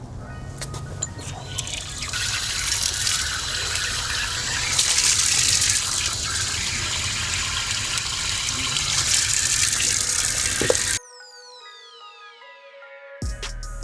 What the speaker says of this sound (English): Let's go outside and rinse all this stuff.